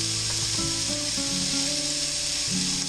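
Wild shaggy mane mushrooms sizzle and fry in a pan of oil, a steady bright crackle throughout, with a faint tonal hum beneath.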